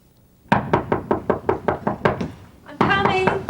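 A run of about nine sharp, evenly spaced knocks on a door, loud and close, followed by a voice speaking.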